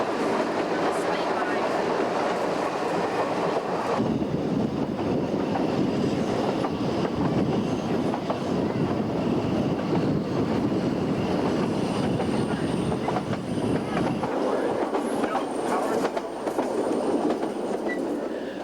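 A narrow-gauge train with a 1 ft 11.5 in gauge runs behind a Fairlie-type locomotive on a Welsh slate line, giving a loud, continuous rumble and rattle of wheels and carriages that swells midway.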